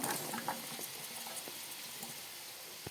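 Carrots, capsicum and tomato being half-fried in a pan for corn fried rice give a quiet, steady sizzle with soft crackles and stirring patter throughout.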